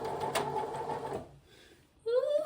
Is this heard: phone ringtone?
no